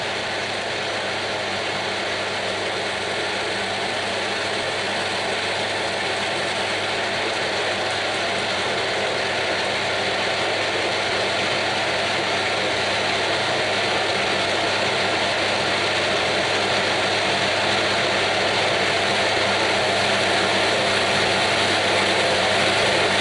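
A metal lathe runs steadily while chamfering a tailstock die holder, giving a constant dense mechanical whir with gear noise, close and loud throughout, with no talk.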